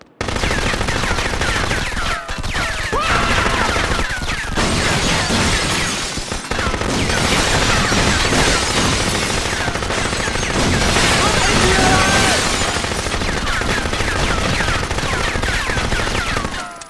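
Loud, nearly continuous gunfire from the video game Jet Li: Rise to Honor, rapid automatic bursts and booming shots filling the whole stretch with hardly a pause, with some voices mixed in.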